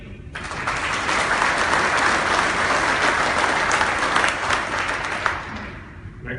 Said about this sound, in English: I think that's what's referred to as a smattering of applause.